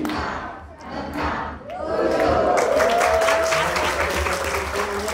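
Audience at a cooperative credit union's annual members' meeting in Pontianak claps and calls out together, rising into sustained loud applause mixed with crowd voices.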